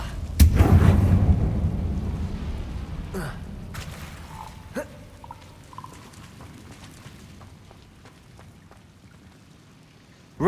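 Bombarda and Confringo spells exploding in Hogwarts Legacy, a heavy booming blast up front that rolls off into a long decaying rumble with a few scattered debris crackles and softer impacts afterward.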